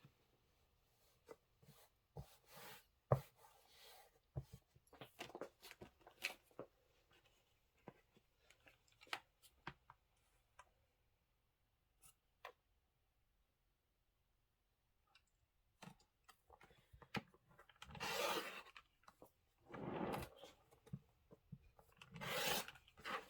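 Rotary or blade cuts through quilting fabric squares for a table topper give intermittent raspy scraping strokes, short bursts separated by quiet gaps, with longer louder rubs near the end.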